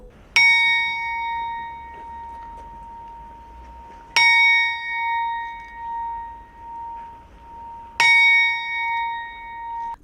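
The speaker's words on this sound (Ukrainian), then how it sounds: "Це перший дзвін пам'яті на Прикарпатті у 2026-му." A memorial bell in Prykarpattia, Ukraine, tolls three times at slow, even intervals, each clear metallic strike ringing out and lingering before the next.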